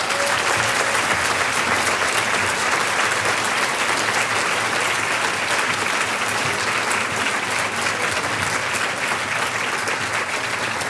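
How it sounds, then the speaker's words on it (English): A large audience at a civic report presentation claps steadily, a dense, even roar of applause that holds loud and unbroken throughout. "Let us please put our hands together and give them an applause."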